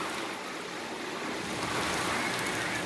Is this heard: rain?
yes